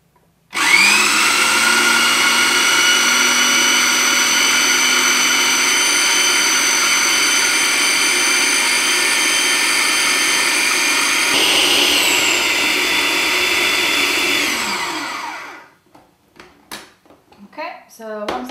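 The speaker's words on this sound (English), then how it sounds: "then you need to pop it into your blender or food processor." A blender or food processor whizzes cooked beetroot soup until smooth, a loud steady motor whir running for about fifteen seconds, its pitch shifting slightly near the end before it winds down and stops, followed by brief clatter.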